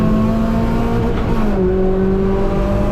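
A race car engine pulls hard out of a corner at GingerMan, its loud steady drone holding one pitch and then shifting mid-clip as it keeps accelerating, close and continuous, with no talk over it.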